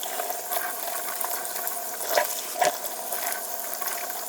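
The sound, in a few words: water rinsing canned white beans in a colander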